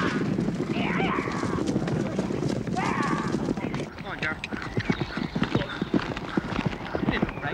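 Horses clip-clop on a film set, hoofbeats steady under continuous talk and ambient noise, growing more distinct and rhythmic toward the end.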